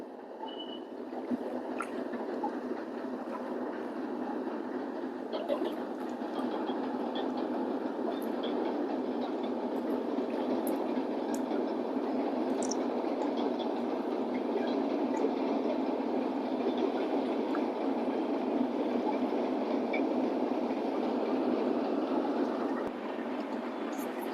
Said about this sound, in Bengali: এই যে আর ট্রেন যাচ্ছে